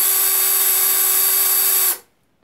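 A Parkside Lidl 12V cordless drill/driver running at its slower speed, a steady close whine with a constant tone that holds for about two seconds and then cuts off abruptly into silence.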